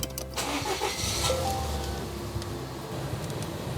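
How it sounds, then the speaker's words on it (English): A Volvo XC90 engine starts close by, a brief crank giving way to a steady running hum with broad noise throughout. "Okay, starting the car."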